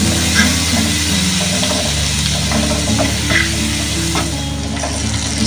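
Butter sizzling in a hot pan with chopped garlic and soy sauce, a dense, loud, continuous frying hiss with a steady low hum underneath and faint stirring clicks, close by.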